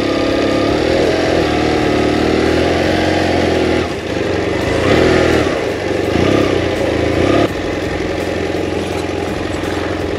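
A motorcycle rolling downhill on a descent in Montana, its engine droning loud and steady with a brief dip and a few throttle swells, close and continuous.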